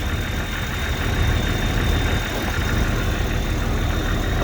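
An engine runs at raised RPM driving an alternator, producing a steady, close rumbling drone with a faint high whine above it, constant in level throughout.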